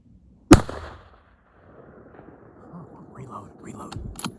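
A single sharp rifle shot during a late-season public-land bull elk hunt in Colorado, loud and abrupt with a short echoing tail, followed by quiet rustling and low whispered voices.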